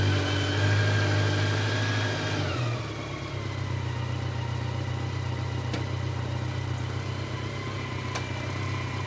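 A 2008 BMW K1200LT motorcycle idles and then backs uphill in electric reverse on a sloped driveway, giving a steady low engine hum and whine close by, with a shift in pitch partway through and a couple of faint clicks.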